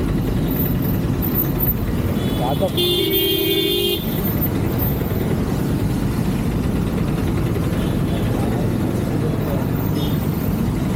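Busy street traffic on a motorbike ride through Coimbatore, with a continuous close roar of engines and road noise, a short bright horn blast near the start, and a voice speaking over the din.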